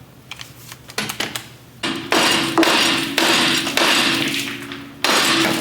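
Several quick clanks give way to heavy, ringing blows from a big sledgehammer while a frame is being stripped. The strikes land in loud, sustained bursts close by.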